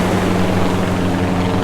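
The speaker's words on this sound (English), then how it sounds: "Plane flying overhead." A plane passes overhead near a beach where someone is surf fishing, its steady engine drone loud and constant, with low propeller-like hum throughout and no talk.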